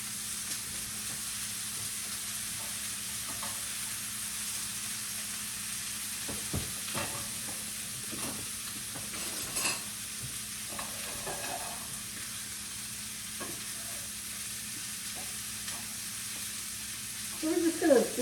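Green beans and shallots sauté in a pan on a new stovetop. A low, steady sizzle runs throughout with occasional stirring scrapes and a few louder knocks toward the end, while someone talks over it.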